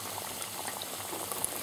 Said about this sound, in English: spicy spinach and plantain rolls are frying off here now.